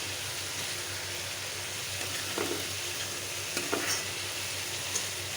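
Fried potatoes tossed into a hot pan of spice paste made with dried red chilies, giving a continuous sizzle and frying hiss with a couple of brief clinks of stirring.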